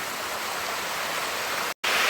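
Rushing water of a mountain stream in the Carpathians near Sheshory, swollen after several days of rain, a steady close hiss broken by a brief dropout near the end, with no voices.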